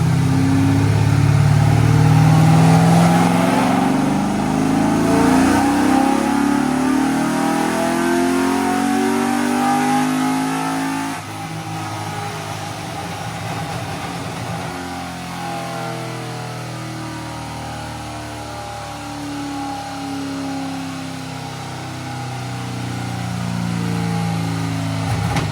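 On a dyno, a car engine sprayed with a 100 jet of nitrous revs up hard, loud and close, holds a strained roar, then drops back to a lower running drone that swells again near the end.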